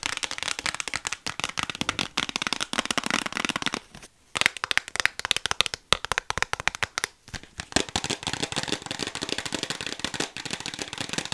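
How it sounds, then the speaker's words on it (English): A Chanel Coco Mademoiselle perfume box being unboxed: continuous close crinkling, rustling and crackling of paper and cardboard, dense and fairly loud, broken by a few short pauses, with no talking. "let's go ahead and unbox this"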